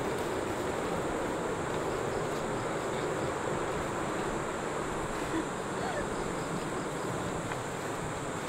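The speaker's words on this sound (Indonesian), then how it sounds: "Ombaknya gede ya" Big ocean waves wash continuously at Uluwatu beach in Bali, a dense, steady roar of surf with wind, heard close and fairly loud throughout.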